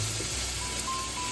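Mushroom sauce with crushed red pepper sizzles softly in a pan, a steady hiss and crackle that runs through the brief moment with no voices.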